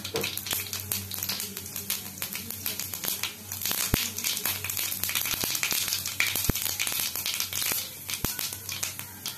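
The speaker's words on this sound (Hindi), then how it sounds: "एबे एथरे पंच फुटन को फुटाइबा।" Panch phoron spices crackle and sizzle in hot mustard oil, giving a steady close frying hiss dotted with sharp, rapid pops and spits throughout, with no talking.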